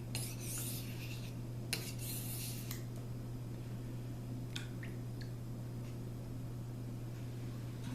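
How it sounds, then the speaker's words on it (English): A fillet knife is drawn across a whetstone in short rasping strokes, several quick scrapes followed by quieter, sparser strokes over a low steady hum. "with a fillet knife, the hardest area to sharpen is going to be out at the tip"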